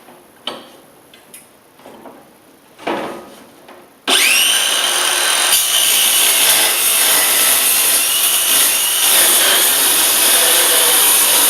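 A power tool cutting strips of material for a waste veg oil drum lid: a few scrapes and knocks, then a loud, continuous high-pitched cutting whine that starts abruptly and runs to the end.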